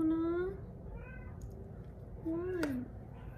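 A female house cat meows twice, each a drawn-out rising and falling cry, near and clear over a low room murmur.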